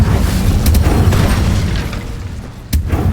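The Incendio fire spell cast in Hogwarts Legacy gives a loud, booming burst of flame with a dense, roaring rumble, sharp crackling flares at the start and another strong blast near the end.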